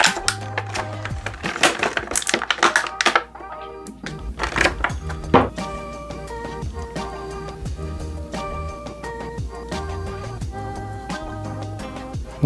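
Crinkly plastic crackles and snaps as a 2012 TMNT Metalhead robotic turtle figure is pushed out of its blister packaging, close, busy rustling that settles into lighter crackles, with music underneath.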